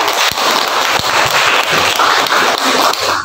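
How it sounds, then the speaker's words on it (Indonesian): A classroom of students applauds a group that has just finished presenting their lesson, a dense, steady burst of clapping that fills the room and stays loud and even throughout. "Tepuk tangan untuk kelompok yang sudah maju hari ini"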